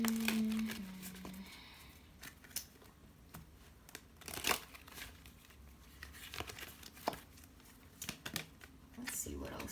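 A deck of Wild Unknown Archetypes oracle cards shuffled by hand close up, giving soft papery riffles, slides and taps in irregular bursts with a faint low background hum.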